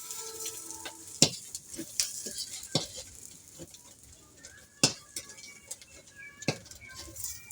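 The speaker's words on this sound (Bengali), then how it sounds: "বেগুন ভাজি করছি" Eggplant slices fry in a pan for a village breakfast, giving a soft crackling sizzle broken by sharp utensil clinks and scraping stirs at irregular moments.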